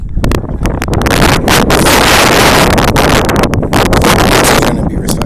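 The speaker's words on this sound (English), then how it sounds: "I said it'd be really windy up here." Strong wind buffets the microphone in a windy, high, icy outdoor spot, producing a loud, continuous, roaring rumble that fills the whole stretch with gusty fluctuations.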